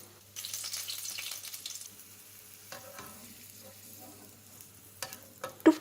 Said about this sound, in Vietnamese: Bây giờ chúng ta xào nhân bánh, cho dầu vào chảo. Cho tỏi vào phi thơm lên.